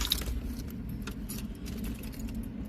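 A bunch of keys jangles in quick, light metallic clinks over the steady low rumble of a car, close and continuous through the whole stretch.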